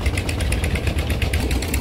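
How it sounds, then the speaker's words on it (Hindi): Powerful lorry engine working as a winch, pulling coal out of a mine in Duki, Pakistan, on steel ropes. A loud, close, steady chugging throb with fast rhythmic knocking pulses runs throughout, with no talk. "बिल्कुल ताकतवर इंजन है, लारी का इंजन"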